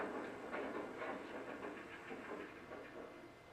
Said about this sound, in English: I'm going to go ahead and play the shutdown sequence